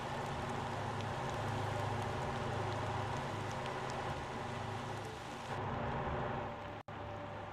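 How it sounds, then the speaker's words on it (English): Rain falls in the driving game Motortown as a steady, broadband hiss that continues throughout with a low rumble beneath it, thinning slightly near the end. "I don't want to hear the rain sound."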